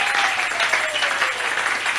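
A church congregation at a French-language Sunday service clapping together, a dense, steady patter of many hands filling the room with no pauses.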